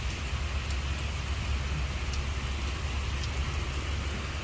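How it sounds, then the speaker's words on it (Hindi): Rain pours down on a street in Newark, New Jersey, making an unbroken, moderately loud hiss of drops on pavement, with a faint low rumble underneath and nobody speaking. "अच्छी खासी बारिश हो रही है।"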